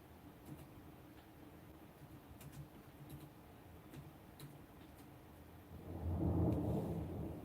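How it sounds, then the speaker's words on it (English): Faint distant thunder during a rainstorm, a low rumble that swells and rolls near the end over soft, steady rain ticks and quiet room ambience, with no voices. "I definitely can hear that thunder"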